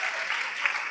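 Audience applause after a wellness session, a dense wash of clapping from a seated crowd that is moderately loud and continuous through a brief moment.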